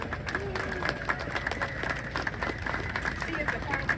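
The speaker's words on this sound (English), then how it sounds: "Give yourself a round of applause for being here." Outdoor crowd at a 1906 earthquake and fire commemoration ceremony in San Francisco applauding steadily, a dense patter of many hands clapping throughout, with crowd chatter and a voice mixed in.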